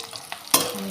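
Onions frying in hot oil in a kadai, a soft sizzle broken by one sharp stirring scrape midway, close and brief.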